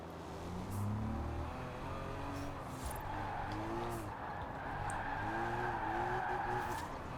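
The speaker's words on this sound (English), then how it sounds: "it definitely does sound like a BMW from inside" Interior engine note of a Ford car in Forza Horizon 4, a continuous revving drone rising and falling through gear changes, with tire squeal running alongside.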